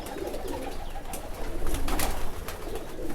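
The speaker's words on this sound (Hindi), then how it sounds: "ये देखें ना शिकरा कबूतर है माशाल्लाह।" A Shikra breed pigeon coos steadily and close by, a soft rolling series of calls with no voices.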